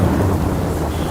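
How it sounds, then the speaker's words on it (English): A thunder crash rolls through during a dark storm, a loud, sustained rumble close by, with rain hissing underneath and no talking. "Wow, that was some crash. That storm is here."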